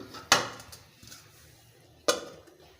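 A lid is set on a pot of catla fish curry with cauliflower, making two sharp metallic clanks about two seconds apart against quiet background.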